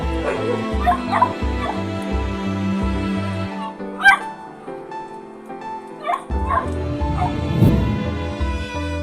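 An injured puppy whimpering and yipping in repeated high whines and short barks, close and fairly loud, with music playing underneath and a brief pause midway.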